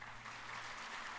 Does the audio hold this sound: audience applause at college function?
yes